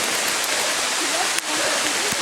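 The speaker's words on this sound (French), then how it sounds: "Voilà, ça c'est de la grêle." Hail falling outdoors in Mexico, a dense, steady rush of hailstones pelting surfaces all around, loud and hissing without pause.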